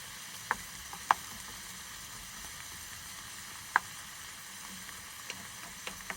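Wild mushrooms cooking down in a pan at a roadside camp stove in Mountain City, Tennessee, a faint steady sizzle with a few sharp utensil clicks.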